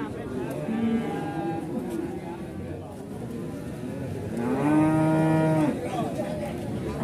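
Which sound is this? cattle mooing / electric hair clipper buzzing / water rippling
cattle mooing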